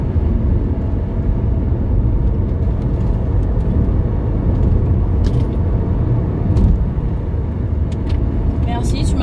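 An Audi Q3 accelerates hard along a road, its engine and road noise forming a loud, steady low roar close to the cabin, with occasional people's voices inside.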